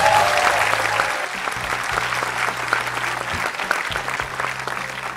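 A photography event audience claps loudly for one of the shoot-out photos, steady dense applause lasting several seconds with a faint crowd murmur beneath.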